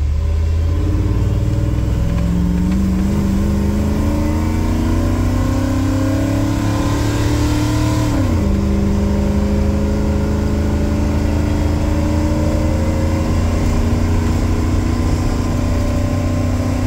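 A 1977 Ford F150 with a fuel-injected 460 V8, stage 2 cam and C6 three-speed automatic accelerates up a steep grade, its engine note climbing steadily, dropping at a gear shift midway, then pulling again loudly and continuously, with no talking.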